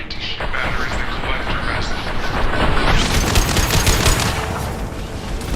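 An anti-ship weapon fires in Mass Effect 2, a loud, dense barrage of rapid blasts and booming bursts that carries on throughout over a busy combat din.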